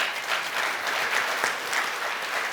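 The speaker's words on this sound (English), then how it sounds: "yes, you can clap for that" Steady applause from an audience at a political gathering, a dense even patter of clapping held close and loud for a couple of seconds with no voices over it.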